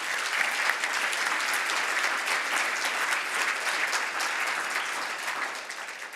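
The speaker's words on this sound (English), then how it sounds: "So let's just applaud them one more time, all of us." Sustained, dense applause from a large gala audience at a military awards event, a steady, full wash of many hands clapping together that holds level and begins to ease at the end.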